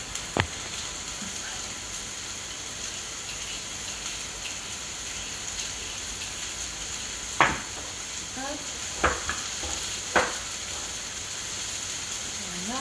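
Onions frying in a pan for a vegetarian bolognese, a steady soft sizzle running throughout with occasional sharp clinks and scrapes of a utensil, and no speech.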